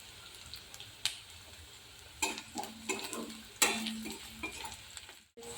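Onions with a little sugar sizzle in a frying pan for a dal-style curry, a spoon scraping and stirring in several bursts of clatter over a steady low frying hiss.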